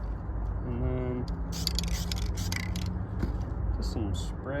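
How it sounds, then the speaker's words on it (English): A spray can hisses in short bursts onto a propped-up piece being painted in a multicam camouflage pattern, close and crisp, with speech and faint background noise underneath. "just some spray right there. Nothing crazy. Just trying to break up the shape."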